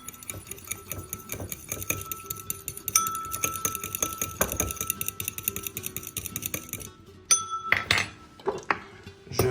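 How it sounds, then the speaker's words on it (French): Scallop carpaccio ingredients with sesame oil mixed in a bowl, a close run of rapid clinking and scraping of utensil against dish, with a few louder knocks near the end and no talking. "On mélange bien."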